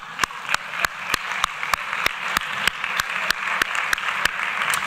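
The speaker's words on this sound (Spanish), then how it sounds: "un aplauso" Audience applause at a parapsychology congress, a continuous bed of clapping punctuated by sharp, regularly spaced loud claps, fairly close and steady.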